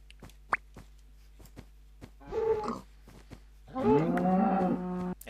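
Two cattle moo in a video game's Wild West frontier setting, the first a rough lowing call and the second longer and louder, separated by faint clicks against a quiet background.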